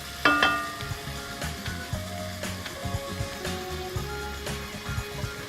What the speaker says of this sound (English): tomatoes also need to be, stirred and fried a bit in the oil with everything else